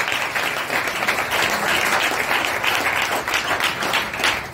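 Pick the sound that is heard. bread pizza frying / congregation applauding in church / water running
congregation applauding in church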